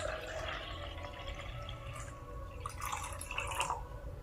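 Cool water is poured into a plastic shaker bottle up to about 250 ml, a steady trickling and splashing stream that runs for several seconds at close range with no talk over it.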